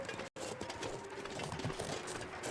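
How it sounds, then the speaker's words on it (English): Crows call somewhere in a wilderness survival video game, the cries faint and distant within a steady wind-like ambient bed, with no talk over them. "I hear some crows somewhere."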